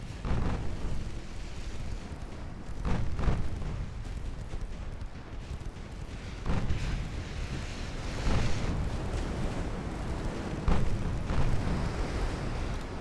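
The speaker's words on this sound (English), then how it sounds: "Firing the torpedoes as you sink." Torpedo hits in a naval warship video game with an Alsace-class battleship, heard as repeated deep booming blasts with rumbling swells recurring every few seconds over continuous low game ambience, fairly muffled and without speech.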